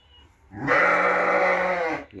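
A single Arashan lamb gives one drawn-out bleat lasting over a second, close and fairly loud against a quiet farmyard background, with no talking.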